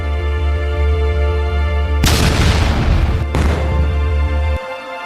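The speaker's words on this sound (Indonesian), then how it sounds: "Tanggal 6 Agustus 1945, Sekutu menjatuhkan bom atom di Hiroshima." A loud atomic bomb explosion effect for the Hiroshima bombing erupts as a heavy booming roar over a steady low drone, followed by a second burst and then an abrupt cutoff.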